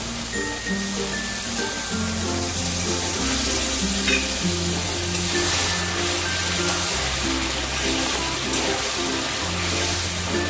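Eggplant frying in oil with spices while being stirred for a yogurt eggplant dish, a steady loud sizzle running throughout beneath background music.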